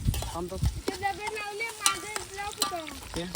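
Onions frying in oil in a pan outdoors over a small wood fire, a soft sizzle under lively chatter and calls from several people nearby.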